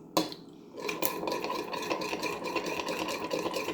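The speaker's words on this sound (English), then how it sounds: "I should use my little whisk." A small whisk stirs tahini salad dressing, giving a steady scraping, rubbing swirl that starts after a brief pause and continues close and fairly even throughout, with no talking.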